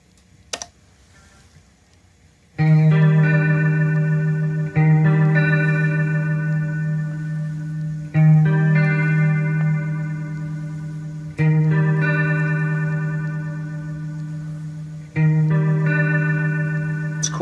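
An electric guitar played through a Strymon Timeline pedal set to warped vinyl modulation rings out alone in a series of sustained, wavering notes, each fresh pick attack falling about every three seconds and decaying slowly.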